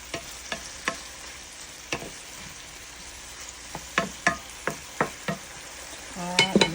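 Bitter gourd frying in a pan with oyster sauce and fish sauce is stirred with a utensil, several distinct scraping knocks over a low sizzle, close and moderately loud, with a busier clatter at the end.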